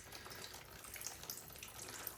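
Pickled jalapeno juice is poured from a jar over raw chicken, a soft steady liquid stream splashing close by and quietly, with no talk over it.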